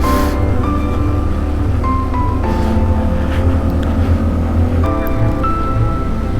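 A motorcycle engine runs steadily on a climbing mountain road, a loud close drone with shifting tones as the revs change and wind noise throughout.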